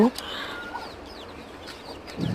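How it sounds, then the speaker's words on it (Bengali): A black desi hen clucks among her eight chicks, whose thin high peeps chirp repeatedly near and far, with a voice speaking at the start and end. "এইটা হলো কালো ধাড়ির সাথে সেই দেশি মুরগির বাচ্চাগুলো"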